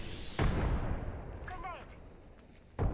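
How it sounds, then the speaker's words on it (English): Gunfire in a video game: two sharp, loud booming shots, one near the start and another near the end, separated by a decaying rumble and a brief high tonal chirp. "Listen up, I'm getting shot at."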